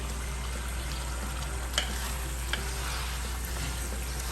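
Chopped, cubed tomatoes hitting a hot pan for chicken curry, giving a low, even sizzle throughout with a couple of faint clicks, no talking.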